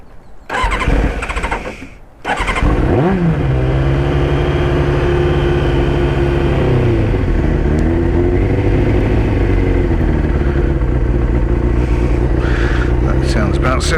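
A Yamaha Thundercat or Kawasaki ZX6-R motorcycle engine runs on choke, idling loudly and steadily at a raised, fast idle after a short burst of cranking and a stumble. A voice is heard briefly near the start.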